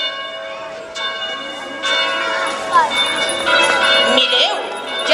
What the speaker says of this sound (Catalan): Mireu, ja sonen les campanes, perquè ixen de missa